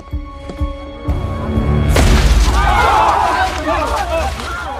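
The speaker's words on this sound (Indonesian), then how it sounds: "ledakan kecil membuat semua lembaran kertas berterbangan" A few soft knocks, then a small explosion booms into a sustained rush of noise with scattered rustling sheets of paper fading out.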